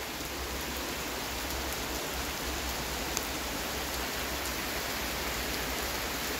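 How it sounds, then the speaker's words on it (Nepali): Heavy rain pouring down outdoors during a dance video shoot, a steady, dense hiss that holds unchanged from start to finish, with no voices and no breaks. "यस्तो पानी पऱ्यो यार"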